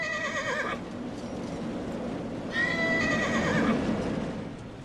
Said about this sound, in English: Oh, Hamish the horse.